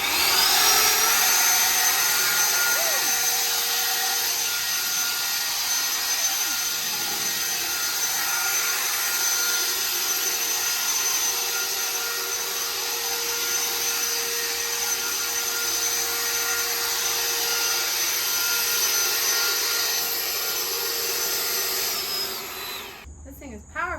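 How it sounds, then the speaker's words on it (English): A KOHE K100 150 mph rechargeable leaf blower runs on its highest setting, a loud, steady high-pitched whine and rushing air held close for about twenty seconds, then cutting off at the end. "So there it is in action, this rechargeable leaf blower"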